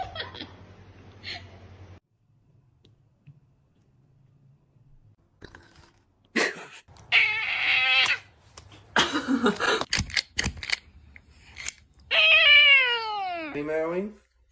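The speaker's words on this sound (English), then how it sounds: "Meowing." A cat meows several times, drawn-out and rising-falling calls, with crunching chewing sounds and a person talking in between, all fairly close.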